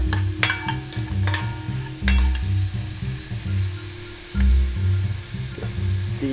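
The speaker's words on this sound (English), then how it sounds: "Stir it." Dried bay leaves frying on low heat in a pan with pork ribs, stirred with a steady crackling sizzle and repeated soft scraping strokes, close and fairly loud, with no talk.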